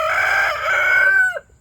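Rooster crowing, one loud, close, drawn-out crow that rises and then trails off abruptly, with no voices.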